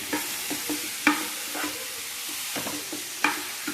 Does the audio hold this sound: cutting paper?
no